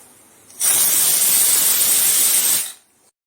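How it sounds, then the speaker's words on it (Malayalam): A pressure cooker whistle: a loud, steady hiss of steam blasts for about two seconds, then cuts off abruptly. "അപ്പോൾ അത് 2 വിസിലായിട്ടുണ്ട്"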